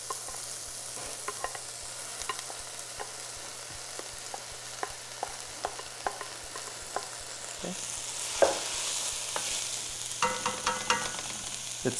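Soba noodles and mushrooms sizzling in a pan, with steady frying crackle under repeated light scrapes and taps of stirring, and a brief louder hiss of fresh ingredients hitting the heat later on.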